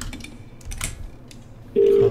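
A telephone being dialed in the horror adventure game The Cat Lady: faint ambient rumble, then one steady electronic keypad tone held for about a third of a second near the end.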